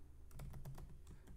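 Keystrokes on a computer keyboard while code is entered, a quick run of soft clicks with no one speaking.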